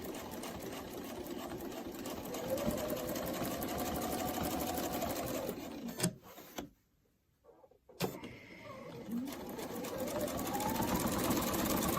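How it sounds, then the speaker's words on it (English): Domestic sewing machine stitching down quilt sashing, a fast steady mechanical whirr of needle strokes that runs continuously, pauses briefly into near silence, then resumes at the same close, even pace. "here we are at the machine and we're going to stitch down this"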